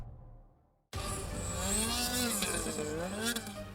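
A snowmobile engine bursts in after near silence and revs hard under throttle, a loud close roar with rising and falling pitch sustained for several seconds.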